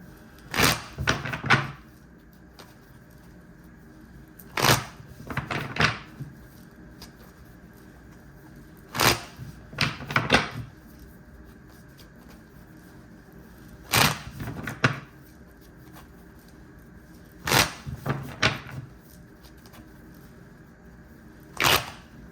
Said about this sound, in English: Let's get a few shuffles in there.